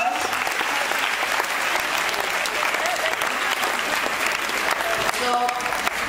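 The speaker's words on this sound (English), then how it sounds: "So please give a big round of applause." An audience at a KIC India summer event gives a speaker steady, dense applause that stays loud and close for the whole stretch, with voices mixed into the clapping.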